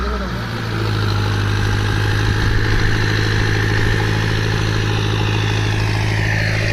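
A tractor engine idling nearby, a steady, loud, low droning hum with a constant throb that holds without change from start to finish.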